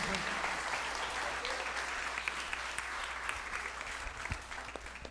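A church congregation at a Father's Day service claps steadily for an elderly couple, a dense, continuous patter of many hands with a few voices mixed underneath.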